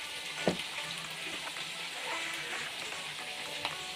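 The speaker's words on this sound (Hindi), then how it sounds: "जब ये थोड़ी देर लहसुन अदरक में फ्राई हो जाएगा" Chicken fries in a karahi with garlic and ginger, giving a continuous close sizzle with occasional clinks and scrapes of a spoon, no talking.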